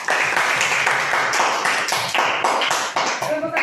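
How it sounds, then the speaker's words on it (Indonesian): A classroom full of students claps together for a presenting group, a brisk, steady patter of many hands that lasts a few seconds, fairly close and loud, then begins to thin out. "tepuk tangan untuk kelompok 1"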